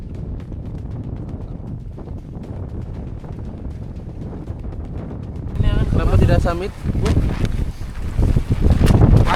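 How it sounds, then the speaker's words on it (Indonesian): Strong wind buffets the microphone on Mount Ciremai during a storm near the Kawah Burung post, a steady roar that surges louder and gustier halfway through, with people talking over it. "Angin tidak mendukung, cuaca tidak mendukung."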